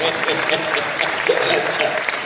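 Brief burst of audience applause at an All India Kavi Sammelan poetry gathering, crowd clapping rising loudly for a couple of seconds with a voice mixed in.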